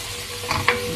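Tomato paste stirred into a sizzling cauliflower shawarma mixture in a pan, a steady frying hiss with two short spoon scrapes close by.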